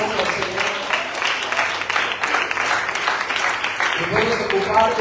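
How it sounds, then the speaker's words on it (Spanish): Church congregation applauding during an evening service, a dense wash of clapping that fills the whole stretch with some voices mixed in under it. "Dale un fuerte aplauso al Señor."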